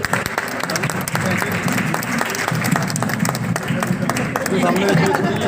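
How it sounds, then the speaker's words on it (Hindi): A hall audience claps vigorously at the opening of a multipurpose hall, steady dense applause with a low murmur of voices underneath, growing slightly louder toward the end. "मैं एक बार चाहता हूँ कि आप जोरदार तालियां बजाकर देखिए"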